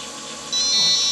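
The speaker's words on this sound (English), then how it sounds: "And that beeps right over there" A steady electronic beep from an iCharger 4010 DUO charger's power supply sounds from the halfway point onward, a high continuous tone over a low background hum.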